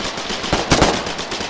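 Gunfire in the video game Foxhole, a rapid stream of close automatic shots layered with battlefield noise, with a heavier blast near the middle of the short burst.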